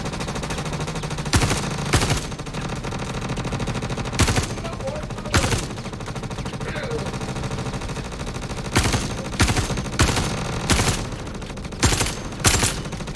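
Gunfire in the Star Citizen video game: several separate bursts of rapid automatic shots, loud and close, spaced by short pauses across the stretch.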